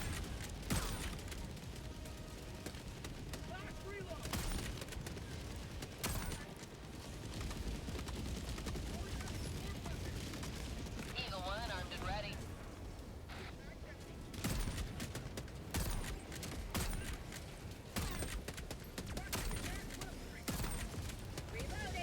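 Rapid, continuous Gatling gun fire from the video game Helldivers 2 roars through most of the stretch, dense and loud with repeated bursts and booms, while someone talks intermittently over the action.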